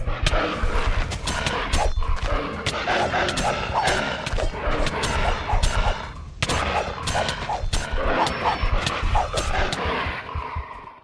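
A dog barking in RLCraft, a Minecraft mod, sharp repeated barks mixed with loud clattering game noise and impacts, nearby and dense.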